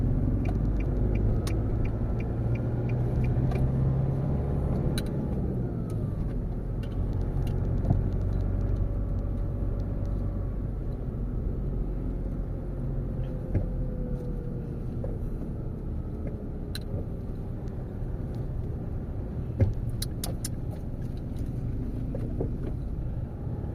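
Road traffic rolls past outside a school at pickup time, a continuous low engine rumble with passing cars, wind buffeting the microphone and an occasional faint tick, no speech heard.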